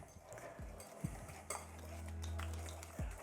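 Whisk scraping and clinking against a bowl while white sugar is mixed into fudgy brownie batter, quiet and close, with a few sharp metallic taps among irregular stirring strokes.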